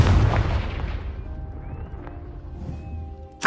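A Confringo fire spell explodes in Hogwarts Legacy: a loud, close burst at the start that booms and slowly dies away, with a faint tonal magical shimmer. A second sharp burst hits right at the end.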